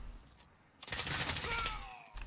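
Gunfire in the Call of Duty Warzone video game, a dense burst of fairly loud shots and clatter that starts abruptly after a quiet stretch, runs for over a second, then cuts off.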